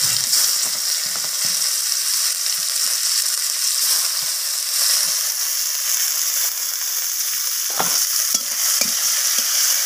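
Tomato fries in oil with a tempering of dried red chilli, cumin seeds and a bay leaf. A loud, constant sizzle runs under repeated spatula scrapes and stirring knocks.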